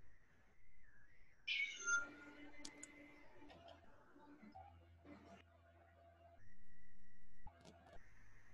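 A pet cat meows once, fairly clearly, in a quiet indoor room, with faint ticking and a brief steady whistling tone nearby.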